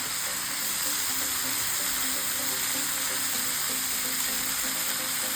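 Steady close sizzle of hadsan wild greens frying in a pan while being stirred, a continuous hiss with faint scraping, no talk.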